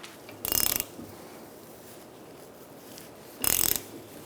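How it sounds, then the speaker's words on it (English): Ratchet wrench slowly pressing a lower control arm bushing into a 2002-2006 Honda CR-V control arm held in a vise, heard as two short bursts of ratcheting clicks a few seconds apart over quiet background. "I'm going to start with my ratchet, do it slowly, and make sure it's going in properly."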